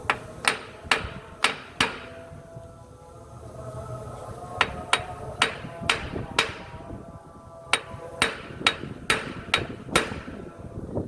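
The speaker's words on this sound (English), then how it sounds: "here I'm going to use my sledgehammer." Sharp metallic sledgehammer blows on a steel pin in a gearbox ring out in quick bursts of several strikes each, separated by short pauses, loud and close.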